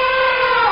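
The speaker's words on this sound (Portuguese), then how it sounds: "Você acertou se você falou que é o elefante." A single loud, brassy trumpet blast held steadily for under a second, harsh and tonal like an elephant's call.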